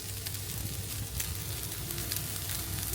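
Soaked rice fries lightly in a pan, giving a steady, dense sizzle and crackle that stays close and even throughout, with no talking.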